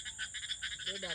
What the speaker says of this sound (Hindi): अच्छा मेंढक मेंढक की आवाज़ है।